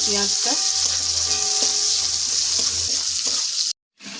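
Chopped onion fries in oil with dried red chili and cumin for a crab curry, a loud continuous sizzle up close with a few light clinks before the sound drops out near the end.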